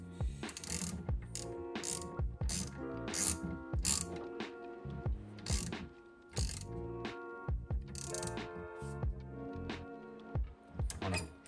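A ratchet wrench clicks in repeated quick bursts, pausing between strokes, while tightening an aluminium fitting on a custom brake hose, close-up and fairly quiet.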